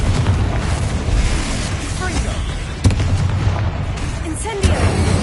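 Fiery Confringo spell blasts in the video game Hogwarts Legacy, booming explosive bursts with sharp cracks amid continuous combat rumble and crackle, a voice calling out between them.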